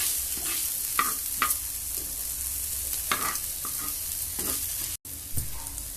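Dosa batter sprinkled with idli podi is stirred on a hot griddle at a roadside onion dosa stall, a steady sizzle under a few scraping stirs up close.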